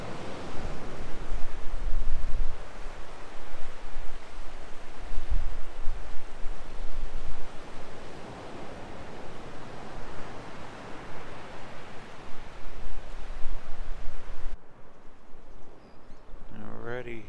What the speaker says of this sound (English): Listen to the water roar.